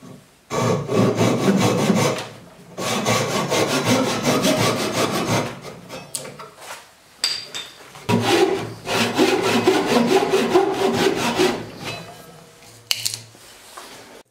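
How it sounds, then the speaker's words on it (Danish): A hand saw cuts through wood to rough out an axe handle for an axe restoration, with steady rhythmic back-and-forth strokes close by and brief pauses between runs; no one speaks. "så tager jeg lige et godt stykke med en sav for at komme tættere på"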